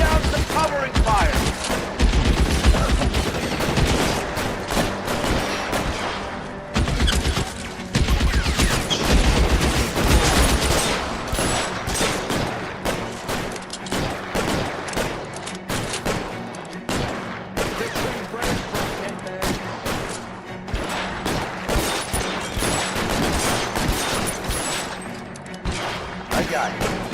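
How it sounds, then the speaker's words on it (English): Sustained gunfire from the video game L.A. Noire: heavy volleys of rapid shots and bursts roll on almost without pause, loud and dense throughout, with the occasional deeper boom. "Lay down some covering fire"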